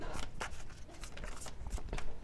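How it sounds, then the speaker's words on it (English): Tarot cards are shuffled by hand in a steady, close riffling rustle with soft slaps and flutters throughout, no voice present. "Let's shuffle this up"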